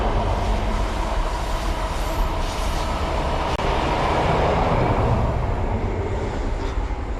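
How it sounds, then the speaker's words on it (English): A train rolls steadily past close by the Magdalen Green walkway, a 1956 footbridge over the railway, giving a loud, continuous rumble and clatter of wheels with no voices. "But there's a train there."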